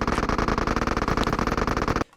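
A video game pistol fired rapidly, a dense unbroken stream of loud, close shots lasting about two seconds and then cutting off abruptly into near silence.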